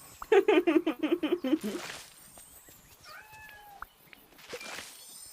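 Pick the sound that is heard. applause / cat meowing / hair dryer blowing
cat meowing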